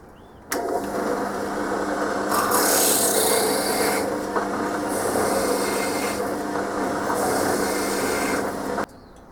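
A thread tap grinds steadily into a blind hole in a guitar headstock, a continuous close rasping scrape lasting several seconds with slight surges in intensity, then stopping abruptly.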